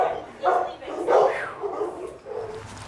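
Hulk, a dog, gives a few loud, close barks in quick bursts during a home-invasion scene, with voices talking over and between them.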